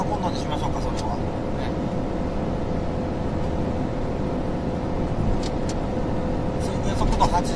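A car cruises north on the Bantan expressway at around the 80 km/h limit, giving a steady close road and engine rumble with tyre hiss, while someone talks over it.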